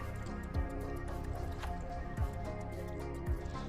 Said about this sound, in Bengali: ওই গরম তেলের মধ্যেই পকোড়াগুলো আমি এক এক করে দিয়ে দিচ্ছি